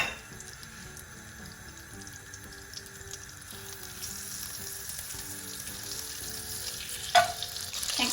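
Butter and a tablespoon of sunflower oil heat in a hot pan, giving a soft continuous sizzle with faint watery crackle that swells slightly toward the end, with no talking.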